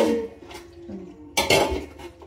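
Cooked rice being tipped out of a pot in a home kitchen during biryani cooking, with a metal pot clinking and scraping near the mic, a loud clatter in the middle, and no talk.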